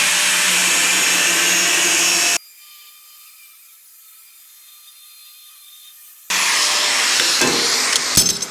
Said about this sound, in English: We'll do a couple of cuts with that and just see how far down the disc goes.